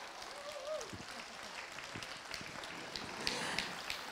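Crowd applause at the opening ceremony of a Relay for Life charity event, a light scattered clapping over distant voices and background chatter, fairly quiet and uneven.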